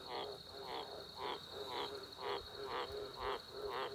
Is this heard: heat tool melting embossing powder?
no